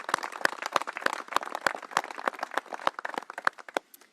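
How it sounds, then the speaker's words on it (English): Crowd applause for the three originators of pickleball, a dense patter of many hands clapping at close range, steady throughout and tapering at the very end, with no talk. "How about a round of applause for the three originators of this incredible sport?"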